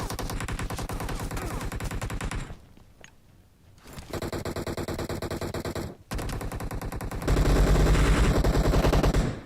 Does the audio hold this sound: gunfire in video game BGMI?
yes